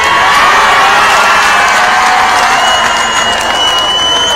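A large crowd at a political rally in Tanzania cheers and applauds loudly and continuously, a dense roar of clapping and shouting with some whistles, close and sustained throughout.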